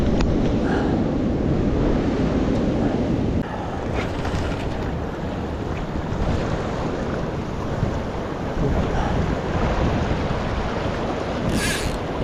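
Strong wind gusts buffet the microphone beside a minor Lancashire river during sea trout fishing, a loud continuous rushing roar with low rumble and no talking.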